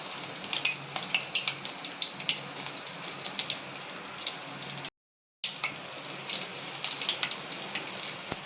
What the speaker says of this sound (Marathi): तेल आता आपला तापलेला आहे त्याच्यामध्ये मी लसूण घालून घेणार आहे